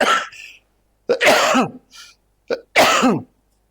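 Several harsh coughs in two quick bursts, close and loud, with short pauses between and no talking.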